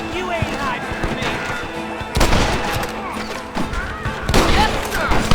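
Gunfire in the video game Red Dead Redemption: a dense, continuous crackle of shots and booms during a battle, loud bursts rising over steady action noise, with voices shouting throughout.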